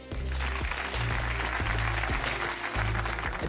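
A studio audience claps together on a consumer counterfeit-testing show, with steady broadband clapping over a low tonal music bed throughout.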